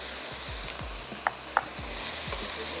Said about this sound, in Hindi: ये हमने शामिल किया, थोड़ा सा फ्राई करते हैं।